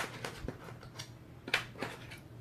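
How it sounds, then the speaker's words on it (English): Scissors cutting out paper numbers for a spooky cat Halloween eclipse card, a handful of short crisp snips spaced irregularly over a quiet room background. "now we're ready to cut out our numbers"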